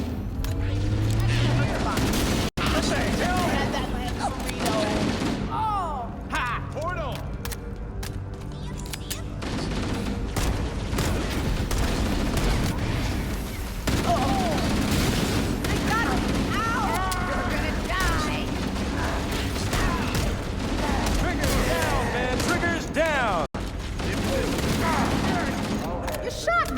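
Sustained gunfire crackles through a battle in the video game Halo: Campaign Evolved, as bursts and single shots sound over loud, dense combat noise and music. Voices shout now and then beneath the din.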